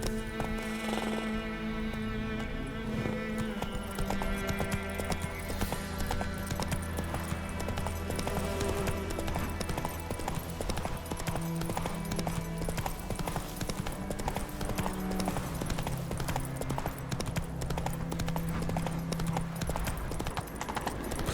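Horse hooves clip-clop at a steady gallop in The Witcher 3, driving on continuously under a layered orchestral game score, with an occasional faint whinny.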